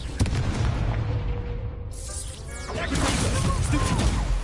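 In the Hogwarts Legacy video game, a Confringo spell sets off a loud fiery explosion amid rumbling combat effects, followed by crackling bursts and swooshing magic.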